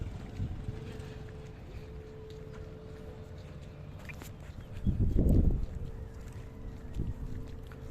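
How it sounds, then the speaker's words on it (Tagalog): Wind buffets the microphone in low rumbling gusts, strongest in one surge midway, over a faint steady outdoor background in Sorsogon City, Philippines. "Mahangin dito."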